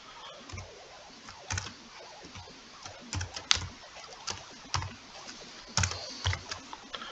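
Text is typed on a computer keyboard, with steady, close, crisp key clicks running in irregular bursts and no voices.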